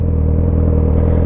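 A motorcycle engine rumbles low and loud close by, sputtering unevenly as it stalls during slow clutch and throttle practice. There is no talking.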